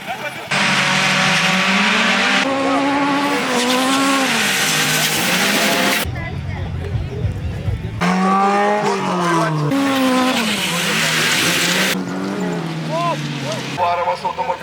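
A car racing hard at speed, engine roaring loudly and rising and falling in pitch through gear changes, with tyre noise and a brief lull midway, while a commentator talks over it.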